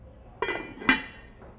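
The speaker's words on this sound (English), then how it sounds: "Then I'm going to put the lid back on" A cooking pot's lid set back down during a one-pot chicken and saffron rice dinner, giving two clinks about half a second apart, the second sharper and ringing briefly before fading.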